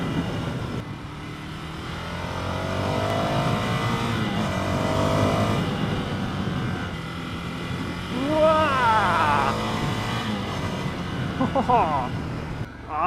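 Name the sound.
2015 Ducati Scrambler motorcycle engine accelerating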